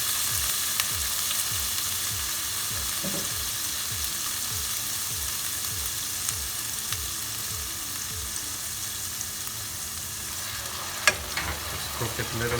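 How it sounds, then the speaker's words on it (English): Goan shrimp sauce frying in oil in a pan, a steady dense sizzle with soft scraping from stirring and one sharp knock of the spoon near the end. "Cook it a little bit in the oil. Stir it well."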